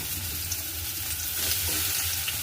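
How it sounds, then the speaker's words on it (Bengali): Chopped garlic and onion fry in hot oil in a kadai, giving a steady, close hiss with faint occasional stirring and no talk. "এবার আমি প্রথমে রসুন কুচিটা আর পেঁয়াজ কুচিটা দিয়ে একটু লাল লাল করে"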